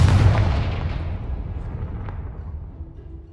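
A Confringo blast spell in Hogwarts Legacy opens with one loud, deep explosive boom that rumbles and slowly fades over a few seconds.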